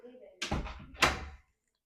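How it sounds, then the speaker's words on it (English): A cat pounding at a door, heard as a couple of dull thumps and a rattling knock in quick succession, close by, followed by silence. "He's wouldn't stop pounding at the door."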